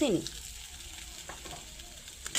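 Garam masala powder and green chillies fry in a pan for a spinach and pea dish, a faint steady sizzle with a brief sliding tone at the start and a few soft clicks.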